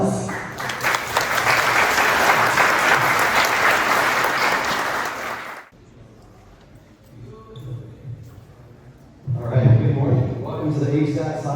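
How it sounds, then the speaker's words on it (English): An audience at a school software engineering showcase gives loud, dense clapping for about five seconds, then it stops abruptly, leaving a quiet room before talking resumes. "Give yourselves a big hand of applause."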